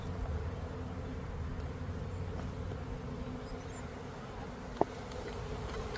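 Dense, steady droning buzz of a swarm of honeybees being caught at a garden apiary, close and continuous, with one sharp click partway through.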